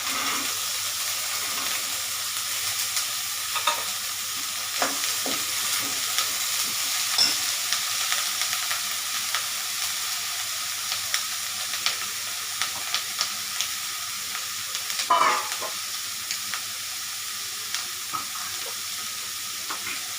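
Steady, quiet sizzle of brinjal frying in a pan, with occasional soft clinks and stirring sounds and a louder scrape near the end.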